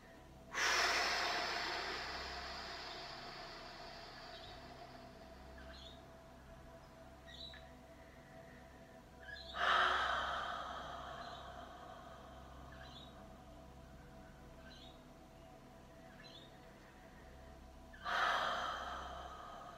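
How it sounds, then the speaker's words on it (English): Slow exhalations out through the mouth during a yoga session for anxiety: three long, breathy sighs about nine seconds apart, close and soft, with quiet stillness between them and no talking. "Breathing through the mouth is the most effective way to release stress and tension from the body."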